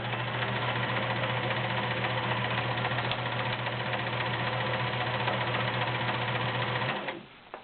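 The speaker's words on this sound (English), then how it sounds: "Does a nice zigzag stitch." A heavy-duty Kenmore 1430 sewing machine runs a zigzag stitch, its motor droning loud and continuous up close for about seven seconds before stopping abruptly.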